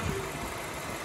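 A BMW E60 fitted with a new M5 front bumper idles steadily nearby, its engine a low continuous hum and rumble with no talk over it.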